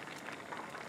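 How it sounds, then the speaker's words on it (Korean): Tteokbokki sauce boils in a pot over heat, giving a soft, continuous bubbling and popping, close but faint, with no voices. "보글보글."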